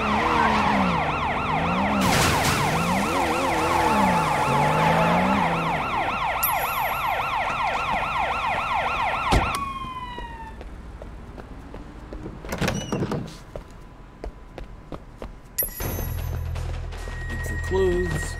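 A police car siren in the video game Sleeping Dogs, a loud wailing siren sweeping up and down for several seconds, followed by quieter game noises, door and mechanical sounds, with a person talking at points.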